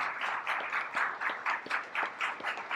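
An audience claps at the Prix Amaranthe 2021 award ceremony in Salle Soukar, with moderately loud applause in quick, pulsing bursts and no talking over it.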